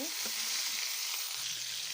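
Mirka fish fries in a pan over a crackling wood fire, giving a dense, continuous hiss and sizzle, close and even, with a brief scrape as the fish is turned.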